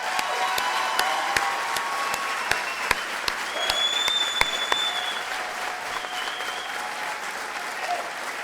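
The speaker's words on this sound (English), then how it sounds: "Please help me give them a round of applause." Steady applause from a graduation honors ceremony audience, moderately distant and even throughout, with a few sharper nearby claps standing out and faint whistles or cheers above.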